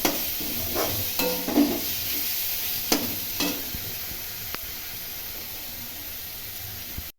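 Masala frying in a pan and being stirred, with a steady sizzling hiss and a few sharp scrapes of the spoon against the pan at irregular moments.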